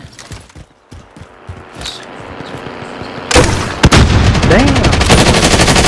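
Rapid bursts of video game gunfire crackle loudly through the second half after quieter clicks and shuffling, dense and sustained with a sharp crack near the middle.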